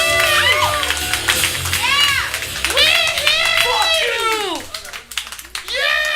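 An audience at a live comedy roast claps and cheers for a contestant, with loud, dense applause and whoops from a crowd while a host's voice calls out over it.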